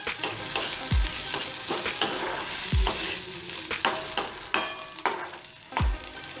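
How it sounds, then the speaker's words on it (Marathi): Ginger, garlic and green chilli sauté in a pan with a lively sizzle, broken by repeated scraping stirs and a few deep thuds of a spoon against the pan, close and fairly loud. "आता त्याच्यामध्ये आपण एक टेबलस्पून आलं लसूण आणि हिरवी मिरची घालणार आहोत, ती पण आपण थोडीशी परतून घेऊया।"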